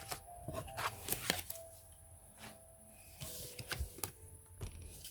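Tarot cards are gathered up from a spread on a table, making soft close slides, shuffles and taps in short bursts, quiet and without talking.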